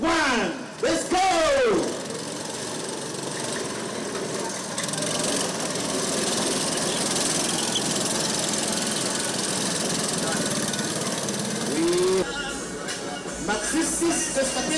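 Go-kart engines at the start of a national karting championship race, a dense, sustained buzzing drone that holds steadily for most of the stretch, with brief voices calling out near the beginning and end.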